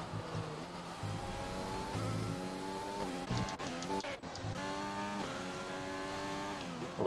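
Race car engine in a racing game droning at high revs with shifting tonal whine as it runs through gravel, steady and fairly faint, with brief scrabbling and lift-off dips midway.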